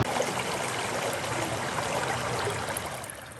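Stream water flows steadily in a broad, soft rushing wash, close and continuous, fading slightly at the end, with no voices.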